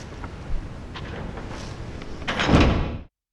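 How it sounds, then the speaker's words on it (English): A heavy oak door creaks open, its groan swelling loudly before stopping abruptly, with faint room noise before it. "The heavy oak groaned as it swung open, the sound rolling through the foyer beyond."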